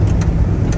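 A 1986 Syncro van idling nearby, a steady low rumbling engine drone with faint periodic ticking on top, loud and close with no speech.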